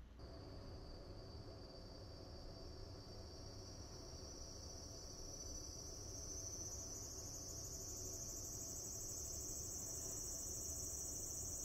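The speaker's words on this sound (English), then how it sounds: "There's a cicada hanging out wherever this vent goes." A cicada buzzes steadily outdoors, heard faintly through a vent, a continuous high drone that swells slightly louder over time with no voices.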